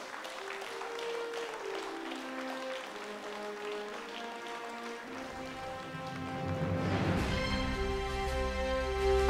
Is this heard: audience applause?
yes